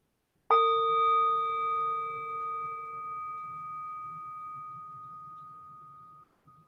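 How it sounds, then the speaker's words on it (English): A singing bowl is struck once and rings out with a clear, sustained metallic tone that slowly fades over several seconds. "the sound of the bowl ringing 4 times"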